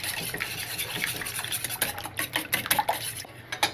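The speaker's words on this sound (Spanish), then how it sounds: "Lo batimos con una batidora." Eggs being beaten briskly with an electric mixer in a bowl close by for carbonara, a busy scraping whir with irregular clinks against the sides.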